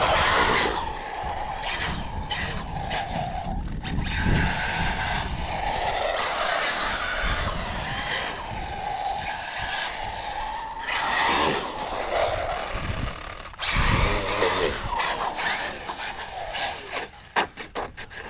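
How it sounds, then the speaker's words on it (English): Tires of a Traxxas Maxx RC truck skid and scrub across a hard surface in repeated rasping bursts, with rubbing scrapes and brief loud squeals between quieter stretches of whirring motor. "you gotta love the noises that the tires make on this thing"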